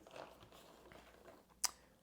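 Someone eating Cinnamon Toast Crunch cereal chews quietly and close, with soft crunching and one sharper crisp crunch near the end.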